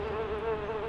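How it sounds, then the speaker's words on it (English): A steady insect-like electric buzz drones at constant pitch, played as a music single, close and unbroken for the whole moment. "All I hear is buzzing."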